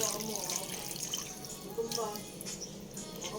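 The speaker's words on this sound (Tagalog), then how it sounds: "Lagyan natin ng tubig." Water splashes and trickles steadily into a cooking pot close by for pork sinigang, a continuous running pour with faint clinks.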